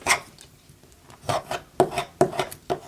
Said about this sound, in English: that's a lovely burnishing from the other side again